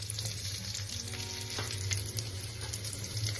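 Chopped green chillies go into cumin seeds roasting in hot oil, giving a steady, even sizzle with faint stirring scrapes throughout, close and fairly quiet with no voices.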